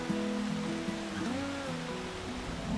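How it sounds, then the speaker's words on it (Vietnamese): Rain falls in an animated Vietnamese fairy tale, a steady, even hiss that fills the scene while soft tonal music drifts over it. "Thôi chết, mưa rồi,"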